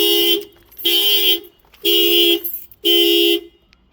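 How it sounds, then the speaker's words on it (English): A Toyota Corolla Fielder's car alarm going off, sounding as four loud, nearby horn blasts of about half a second each, repeated at a steady pulse with short silent gaps between. "The alarm goes off straight away."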